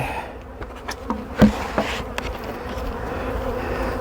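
Honey bees buzzing around a beehive, a close continuous hum with individual bees droning past and a few soft knocks and clicks.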